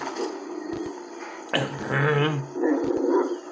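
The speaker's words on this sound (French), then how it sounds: "c'est juste un chien qui me suit" A dog growls and whines in an Ark game scene, low rumbling bursts with a louder snarl midway, set against steady ambient background sound.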